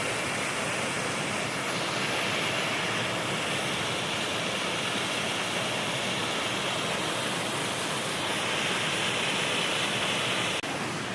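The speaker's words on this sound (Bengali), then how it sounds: "তো এখানে একটা দেখো জলটা কেমন করে পড়ছে।" Water pouring down a small waterfall outdoors, a steady broadband rushing that holds the same level from start to finish, close and loud, with no voices.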